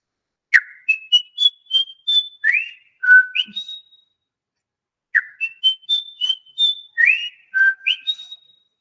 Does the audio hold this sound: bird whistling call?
yes